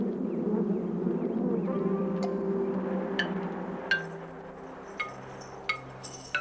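A low, droning honeybee buzz hums steadily while a few light glassy clinks ring out sporadically toward the end.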